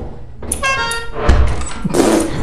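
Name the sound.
car horn honking in the video game Lethal Company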